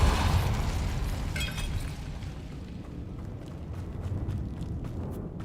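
Depulso spell cast in Hogwarts Legacy, a forceful magical blast that hits hard at the start and settles into a rumbling, crackling tail with faint bright sparkles, moderately loud and without voices.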